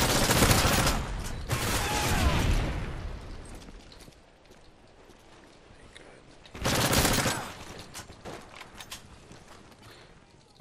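Unsilenced gunfire in a video game match: loud bursts of shots at the start and again around the middle, with quieter game ambience between them.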